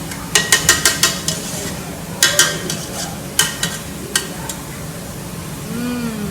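A spoon scrapes leftover food and spices out of a mixing bowl in a resort kitchen: a quick run of sharp, rhythmic clinking strokes, then a few spaced scrapes, close and clear.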